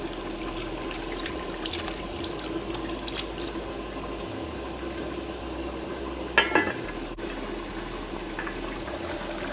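Water pours from a tap or is added to a cooking pot while a Gilbaka fish curry simmers, a continuous soft running-water hiss with a couple of brief clinks partway through.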